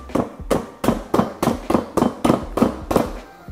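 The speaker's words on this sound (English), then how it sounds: "I'm simply gonna drive it down through any one of the bolt holes here." Hammer drives a wall-type fastener down through a bolt hole into Gator Base, about ten sharp, evenly spaced metallic blows in steady rhythm, close and loud, with no talking.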